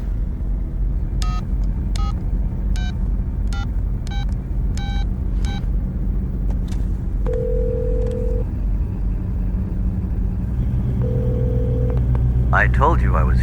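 Telephone keypad tones sound as a number is dialed, about eight short, evenly spaced beeps, followed by two longer steady tones, all over a continuous low rumble like a car interior, with a brief sweeping chirp near the end.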